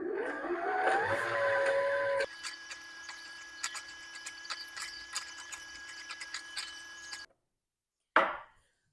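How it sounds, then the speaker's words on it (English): A sewing machine winds a bobbin with a steady whirring hum for about two seconds, then a quieter mechanical ticking and rattling runs on before cutting out, followed by a brief soft thump. "Once your bobbin is full, it will stop winding on its own."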